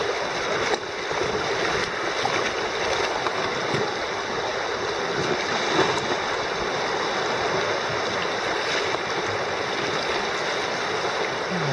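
Rushing whitewater of rapids on the Upper Salt River surrounds a small boat, a steady broadband roar that stays loud and unbroken throughout with no voices over it.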